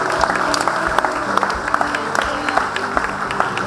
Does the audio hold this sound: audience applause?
yes